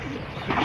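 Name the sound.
pigeons cooing at a private zoo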